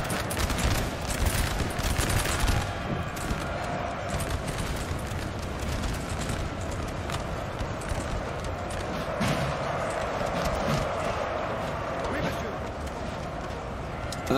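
Musket volleys from infantry lines in a Napoleon: Total War 4v4 battle at Znaim crackle in scattered, overlapping bursts at a distance, with cavalry hooves and battle din underneath and someone commentating over it.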